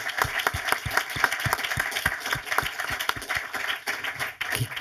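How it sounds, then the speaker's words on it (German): In a German cinema, the audience applauds a visiting film director with a mix of dense applause and distinct nearby hand claps beating in an irregular rhythm for several seconds. "herzlichen Applaus"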